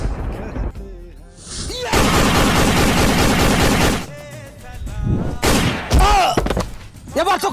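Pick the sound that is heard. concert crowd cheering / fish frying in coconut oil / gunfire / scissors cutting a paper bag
gunfire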